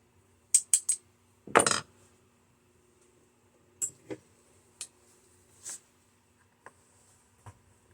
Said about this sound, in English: Still got a couple screws in there that don't want to let go.